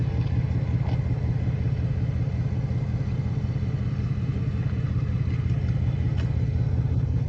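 A Ford Mustang's big engine rumbles steadily as the car drives along a village road, a continuous low drone with faint clatter.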